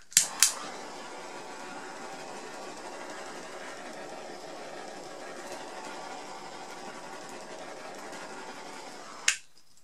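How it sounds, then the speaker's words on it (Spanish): A heat gun runs steadily for about nine seconds over fresh resin in small pendant and keychain molds, a continuous airy blowing hiss bracketed by a couple of sharp clicks at the start and one at the end. "con la ayuda de la pistola de calor, como siempre, le quitamos las burbujitas que pueda tener"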